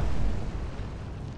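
Battleship main guns firing in the Atlantic Fleet naval combat game, a sustained low booming rumble that fades slowly over a second and a half with no talk.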